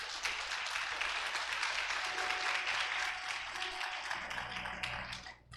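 A church congregation bursts into sustained applause during a service, a thick continuous roar of clapping hands that stays steady before tapering off sharply at the close.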